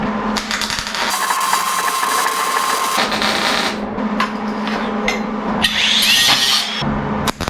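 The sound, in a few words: welding on a VW Baja Bug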